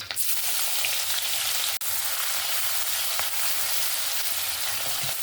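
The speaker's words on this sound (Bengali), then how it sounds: "পেঁয়াজ কুচিটা দিয়ে পেঁয়াজটাকে ভালো করে ভেজে নেব" Chopped onion frying in hot oil, a step in a Bengali cabbage ghonto with fish head, gives a steady, close, even sizzle with no pauses and no voices.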